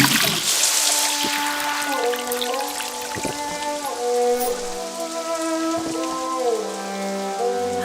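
A bathing shower in a village sprays water steadily and loudly. The dense hiss of droplets is layered with pitched tones that rise and fall, and no one speaks.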